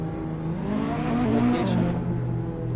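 A sports car in a racing video game accelerates to overtake, its engine giving a steady, close, rising harmonic drone for a few seconds with no speech over it.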